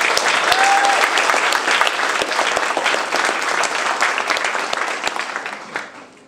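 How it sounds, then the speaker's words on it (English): An audience at a motivational speaking event with live performers bursts into loud, sustained applause. Dense clapping continues for about six seconds before tapering off at the end, with faint crowd murmur underneath. "Give yourselves a round of applause"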